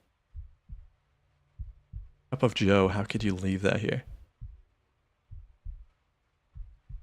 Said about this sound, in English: I don't like hearing your heartbeat